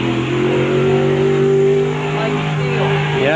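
A modified race car engine revs loudly at an off-road event, its pitch rising and falling as it passes nearby.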